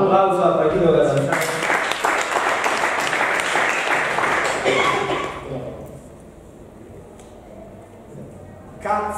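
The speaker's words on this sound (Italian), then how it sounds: "applauso al Partito Catanzaro" An audience claps at a book presentation in Teatro Diana, Naples, a dense close burst of applause lasting about five seconds before fading into quieter room noise and scattered sounds.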